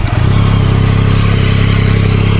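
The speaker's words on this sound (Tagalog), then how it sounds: "Okay, ito yung stock pipe. Tunog ng stock ng MT-09." A Yamaha MT-09 motorcycle with its stock exhaust idles loudly and close up, a steady throbbing exhaust rumble with even pulses throughout.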